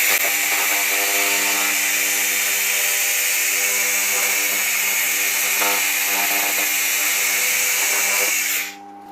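An AKQ-1000 fiber laser cleaning machine scanning metal gives a loud, steady, high-pitched electric buzz with a strong tonal whine, running continuously for about nine seconds before cutting off abruptly.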